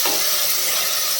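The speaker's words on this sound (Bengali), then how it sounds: "এবারে দিয়ে দিচ্ছি আদা রসুন পেস্ট, 1/2 চামচ আদা আর 1/2 চামচ রসুন পেস্ট।" Ginger garlic paste drops into a hot pan for mutton curry, giving a brief, loud, steady hiss of sizzling with no speech.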